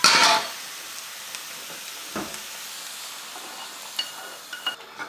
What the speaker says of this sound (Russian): Хорошенечко опять помешиваем.